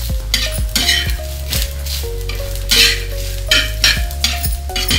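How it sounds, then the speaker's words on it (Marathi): Coriander seeds roasting in a little oil in a pan after browned onion, with loud repeated scraping and clinking of a metal spatula against the pan over a low sizzle and a steady hum, no talking. "आता आपण धने घालूया, थोडंसं तेल सोडूया, व्यवस्थित परतून घ्यायचं।"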